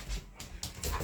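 A dog whimpers softly indoors in a few short, close whines, with a little panting between them and no talk over it.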